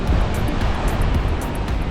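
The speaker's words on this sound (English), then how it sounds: "and you see the waves are very strong." Strong ocean waves at a beach in Cayman on a windy, cloudy day, a loud continuous roar of surf and wind filling the air, with no talking.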